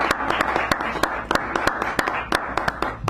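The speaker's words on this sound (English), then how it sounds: "So give her a nice round of applause." A small audience at a poetry reading in a San Francisco café gives scattered, distinct handclaps in an uneven rhythm, close and moderately loud.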